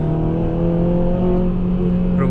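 A 2007 Honda Civic Type-R accelerates below 5,500 rpm without VTEC engaged, a steady, loud engine drone with a low hum throughout.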